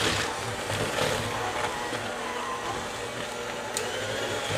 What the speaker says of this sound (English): In a KitchenAid stand mixer